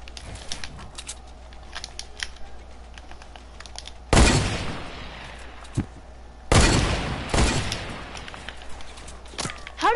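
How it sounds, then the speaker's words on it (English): In the video game Fortnite, gunfire comes as two loud, close bursts of rapid shots, each trailing off into noise, with faint crackling and game sounds in between. "People shooting us."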